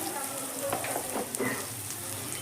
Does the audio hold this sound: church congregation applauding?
no